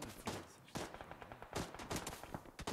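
Gunfire in a video game shooter: quiet, somewhat distant bursts of shots in a rapid, irregular rhythm, repeating throughout.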